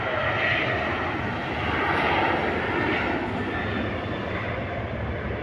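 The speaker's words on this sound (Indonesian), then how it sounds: "mendarat pesawatnya guys" A steady, loud roar of a Lion Air jet landing, broad and rumbling, holding constant for several seconds with faint background murmur.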